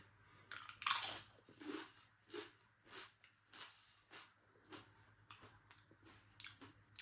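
Crisp, repeated crunching of Flamin' Hot Doritos corn chips being chewed up close, a sharp first bite followed by steady rhythmic chews, fairly quiet with no talking.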